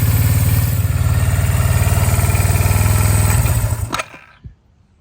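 A Kawasaki KZ305 motorcycle engine idles roughly on one cylinder, close and loud with an even, lumpy pulsing beat, then shuts off and falls to near silence with a last faint clunk.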